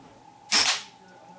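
An air rifle fires a .22 caliber pellet once, a single sharp, close pop with a brief decaying tail in an otherwise quiet setting.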